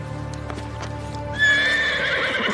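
A horse whinnies loudly and shrilly in the second half, preceded by a few clip-clopping hoof steps over a steady low background hum.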